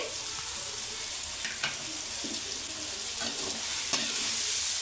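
Boti (tripe) curry sizzles and fries steadily in a pan while a spoon stirs it, with occasional scraping strokes across the bottom, close and fairly loud, with no talking.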